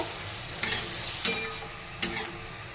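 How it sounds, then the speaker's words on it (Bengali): Tangra fish curry with potatoes and water for the gravy being stirred in a pan, a soft simmering bubble broken by three brief scraping strokes of a spatula. "নেড়ে নেব"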